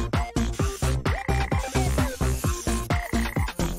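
A small frog croaks in a steady run of about a dozen short, loud, close croaks in quick rhythm, with nothing else heard.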